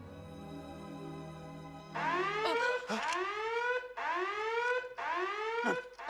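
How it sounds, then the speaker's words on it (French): A comedic alarm effect from the 1987 film Spaceballs, dubbed in French: after a low hum, loud repeated warbling electronic whoops rise and fall in three or four close, insistent cycles. "C'était mon alarme virginale."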